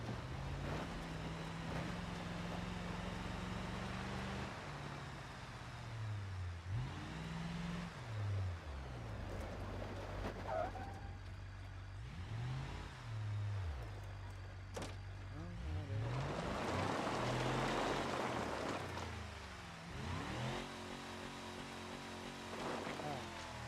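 Truck engine in the BeamNG.drive driving game revving and dropping in repeated low swells as the vehicle bounces along, with someone talking over it.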